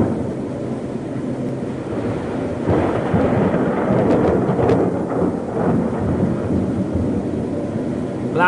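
Rumbling thunder rolls through a steady rain, swelling louder midway with a few sharper crackles before settling back into the downpour.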